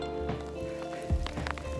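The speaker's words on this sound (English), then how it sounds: "It is hailing on me." Hail falls on a hiker partway down a mountain trail, a dense scatter of small pattering impacts with a few sharper hits, close and continuous under a faint background hum.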